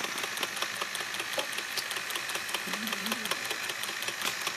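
A Lionel HO gas turbine model locomotive with a gear problem runs close by, giving a steady mechanical whir with rapid, regular ticking and clicking from the faulty drive.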